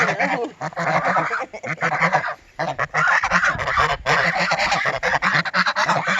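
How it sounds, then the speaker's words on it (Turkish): Ducks honk and quack continuously in a loud, close flock, the calls overlapping and chattering for several seconds with barely a pause. "ördekler korkuyor"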